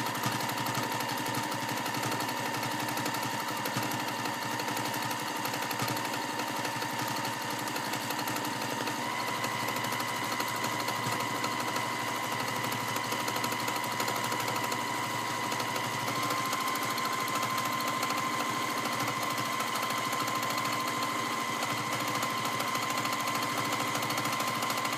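A sewing machine stitches a free-motion quilted wave pattern with a fast, even, continuous mechanical hum. The close, steady drone carries faint tonal whines and runs alone for the whole stretch, with no talking.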